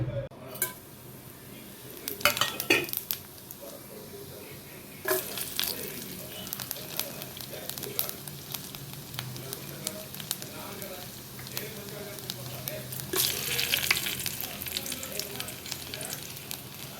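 Cumin, shallots and curry leaves fry in hot ghee for a kichadi tempering, giving a soft steady sizzle close by with occasional clinks of a utensil against the pan.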